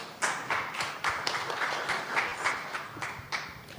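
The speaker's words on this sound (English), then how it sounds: "Another round of applause for the team." A conference audience applauding the team, a short burst of scattered clapping with distinct individual claps, fairly close and moderate in volume, no speech.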